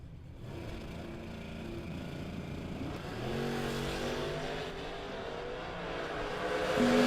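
At a drag strip, a Mustang and a 1979 Monte Carlo rumble and rev at the line, their heavy engine drone building steadily louder toward the launch.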